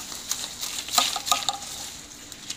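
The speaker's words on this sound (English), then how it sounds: "So normally what I need to do is just scrape the roots" A normal knife scrapes overgrown plant roots off aquaponics pots in a gutter bed, giving a series of close, scratchy strokes with small clinks in an irregular rhythm.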